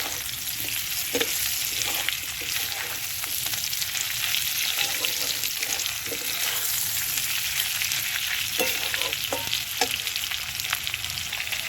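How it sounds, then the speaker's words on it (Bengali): Mixed vegetables for Bengali shukto sauté with spices in a pan, a steady close sizzle with scraping stirs and spatula taps over roughly twelve seconds, no voices. "মশলার সঙ্গে সবজিটাকে খুব ভালো করে একটু কষিয়ে দেবো"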